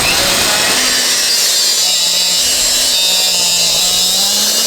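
A power cutter slices through rebar on a farm building site, a loud continuous high-pitched grinding whine held steady at close range with no voices.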